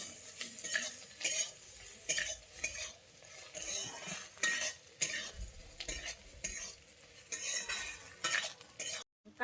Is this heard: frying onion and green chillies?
yes